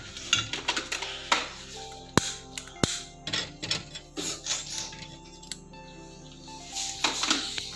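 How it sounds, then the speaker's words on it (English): A frying pan with oil is set onto a stove burner while making chocolate pancakes, giving a few sharp metallic clanks and knocks among light kitchen clatter, close and moderately loud. "I'm going to put the fry pan on the stove"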